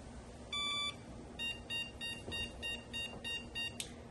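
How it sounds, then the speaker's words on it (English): A 386DX PC motherboard sounding its POST beeps: one longer electronic tone followed by a quick run of short, evenly spaced beeps, clear and alone against faint hum. "we should hopefully get some good sounding PC beep sounds"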